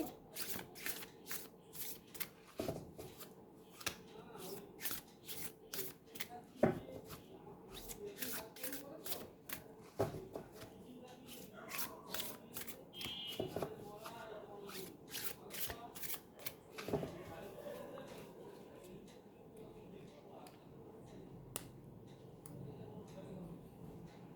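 Oracle cards riffle and slide in rapid, crisp bursts, shuffled repeatedly at close range with short pauses between rounds and a soft murmur of speech in the background.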